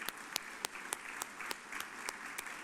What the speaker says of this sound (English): So I think a round of applause for those 2 groups.